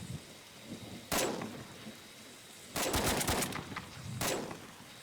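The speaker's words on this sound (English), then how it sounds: "Fire team mag dump." Gunfire from a fire team's magazine dump in the BRM5 video game comes in three sharp bursts of rapid shots, with one short volley, a longer rattling burst and a final volley against a faint background.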